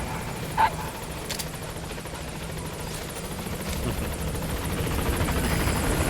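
A helicopter from the Metal Gear Solid V video game approaches a landing zone, its steady rotor roar swelling gradually over a constant background wash, with one brief sharp click early on.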